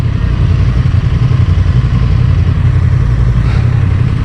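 Honda Transalp motorcycle engine on a test ride, a loud continuous low rumble with steady drone and wind, heard close from the rider's position.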